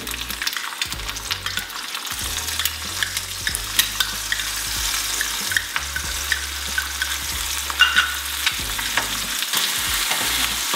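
Eggs frying in a generously oiled pan while being stirred, a steady close sizzle with repeated scraping and stirring clatter throughout, no talking.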